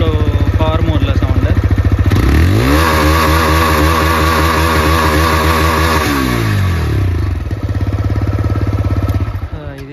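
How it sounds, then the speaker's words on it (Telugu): A TVS Raider 125 motorcycle in power mode idles loudly up close, then its exhaust revs up, holds a high, raspy pitch for several seconds and drops back to a chugging idle. "ఇదేమో ఇప్పుడు పవర్ మోడ్లో సౌండ్"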